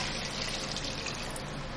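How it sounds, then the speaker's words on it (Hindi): Water pours steadily into a cooking pot of beef and spices for homemade shami kabab, a continuous splashing trickle with no break and no voices. "और ये पानी डाल के"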